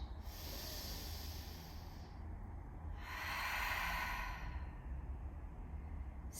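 Slow, steady breaths drawn into the ribcage during a gentle yoga flow, two long airy inhale-exhale swells close to the microphone over a quiet room, with no talking.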